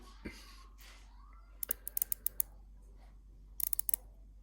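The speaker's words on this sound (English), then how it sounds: "As for the functions here, let's do the bezel movement." Bezel of a Breitling Aerospace Professional pilot's watch from around 2010 being rotated, crisp quiet ratcheting clicks in two short bursts, close up against a faint background hum.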